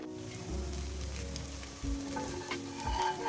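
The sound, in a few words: dosa sizzling on pan after adding oil on top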